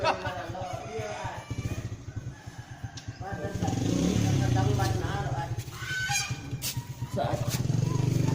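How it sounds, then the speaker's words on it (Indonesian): A rooster crows at a village house near the beach, several loud close crows rising over a motorcycle engine and people talking nearby. "Oh jago lalo ya bu."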